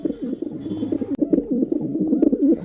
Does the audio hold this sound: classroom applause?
no